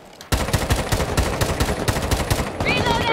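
Rapid automatic gunfire from an operator's weapon in Rainbow Six Siege on the Chalet map, a loud, steady burst of repeated shots starting abruptly and continuing to the end.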